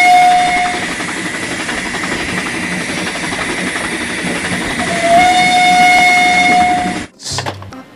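Thomas the Tank Engine toy train giving a steady rolling train sound with a sustained whistle tone at the start and again near the end, then a brief clunk as it stops.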